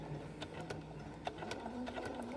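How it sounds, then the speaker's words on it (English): Domestic sewing machine stitching a straight line through a foundation paper piecing block, a steady close mechanical whir with rapid needle ticks running unbroken throughout. "backstitch 1, 2, and then we'll sew our line"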